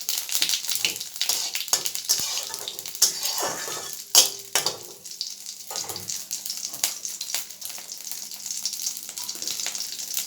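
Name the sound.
whole cumin and dried chillies sizzling in hot oil tempering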